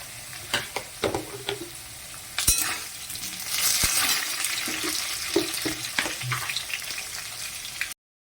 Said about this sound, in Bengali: আলুটা মোটামুটি একটু ভাজা হয়ে গেছে